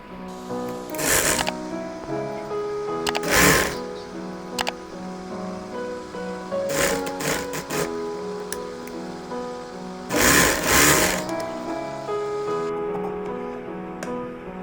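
A sewing machine stitches fabric for a V-neck petticoat or vest, running in several short bursts separated by pauses, with steady background music throughout.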